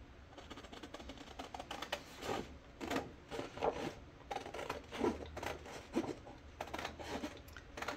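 Scissors snip through paper while an art journal is cut by hand, a run of crisp close cuts and rustles in an irregular rhythm with no talk.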